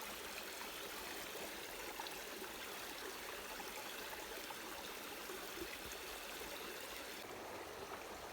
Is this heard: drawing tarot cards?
no